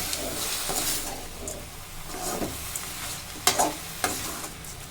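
Vallarai keerai greens sautéed in a pan until wilted, salt added, sizzling softly with close spatula stirs and a few sharper scrapes near the end.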